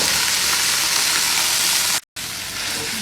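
Mint chutney ingredients sautéing in a hot pan give a steady, close, loud sizzle and hiss. The sizzle cuts out for a moment near the end, then resumes, with no talking.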